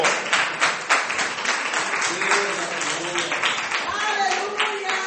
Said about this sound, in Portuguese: Vamos aplaudir o Senhor, porque Deus é bom